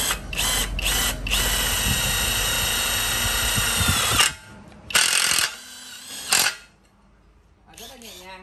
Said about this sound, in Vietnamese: bu lông bắn tôn bắn vít là thoải mái luôn